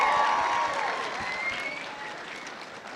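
Crowd applause at a comic convention cosplay contest, a full round of clapping with a few whoops, loud at first and slowly tapering as it continues.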